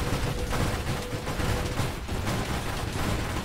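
Rapid laser fire in the space shooter Nova Drift, a dense, continuous barrage of crackling blasts and impacts filling the mix at steady loudness with no pauses.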